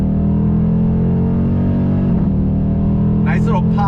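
Loud, sustained V8 roar from a Dodge Challenger T/A powering out of a corner, the engine note holding steady with a brief dip before a voice speaks over it near the end.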